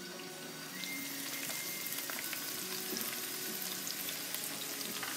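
Zucchini sizzles steadily in a hot pan for pasta primavera, a dense close crackle with faint clinks, quieter for the first moment and then constant, with no voices.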